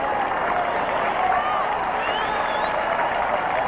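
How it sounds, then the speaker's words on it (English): A large crowd at a 1992 US Open women's tennis match applauds and cheers in a steady, loud wash of sound, with a commentator talking over it. "Crowd trying to encourage Zvereva."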